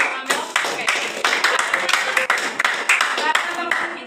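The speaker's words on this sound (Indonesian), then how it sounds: "Beri tepuk tangan untuk Amel." A classroom group applauds a student during a microteaching lesson, a steady burst of many hands clapping close by for about four seconds, with some voices mixed in.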